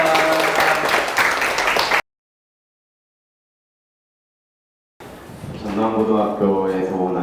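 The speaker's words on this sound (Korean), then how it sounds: "박수 부탁드립니다." An audience claps at the close of a public science lecture on click chemistry in Gwangju: a dense, steady burst of crowd applause for about two seconds, then abrupt silence, followed by a single voice speaking.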